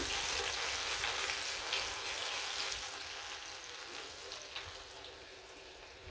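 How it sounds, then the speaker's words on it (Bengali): Onion pieces fry in hot oil for piyaju, giving a steady close sizzle that eases off slightly toward the end, with no talking. "এখন ভেজে নিব এখানে কিছু কিছু করা পেঁয়াজ দিয়ে দিলাম"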